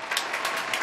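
Brief burst of applause from a small audience, moderately faint and continuous, lasting under a second.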